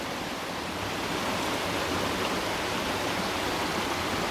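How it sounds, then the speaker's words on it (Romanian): Water gushing out from under a stone, a continuous close rushing hiss of flowing stream water, even and unbroken with no voices. "Apa iasă de sub piatră."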